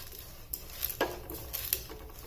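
Urad dal roasts in a pan, stirred with a big spoon, making light scraping and clinking taps of the spoon against the pan over a low, steady background.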